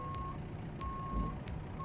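A truck driving in American Truck Simulator, a steady low engine drone running throughout, with a repeating reversing-style beep tone sounding at regular intervals over it, no talking.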